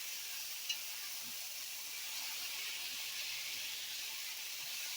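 Food cooking in a pan gives off a steady, broad sizzle and hiss that runs unbroken and fairly loud throughout, with no voices over it.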